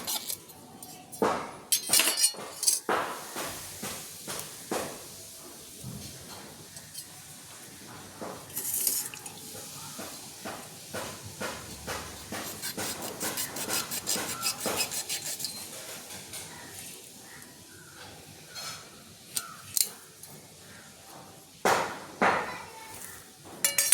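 Nannari root is cut and dropped into a glass of passion fruit juice, giving a run of clinks, knocks and taps of glass, utensils and a chopping surface, sometimes sharp and close, with quieter gaps between.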